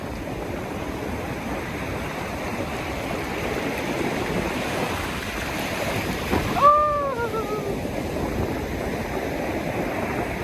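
Sea water surges and washes continuously on the shore at Bodega Bay during crabbing, a broad rushing roar with a brief swell, and a faint bird call cuts in once partway through.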